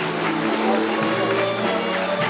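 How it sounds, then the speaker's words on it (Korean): Audience applause at a Korean agricultural research award ceremony, dense steady clapping from a crowd mixed with background music, continuous throughout and fairly loud. "축하의 큰 박수 부탁드리기 바랍니다"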